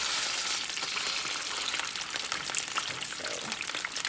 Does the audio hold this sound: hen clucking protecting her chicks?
no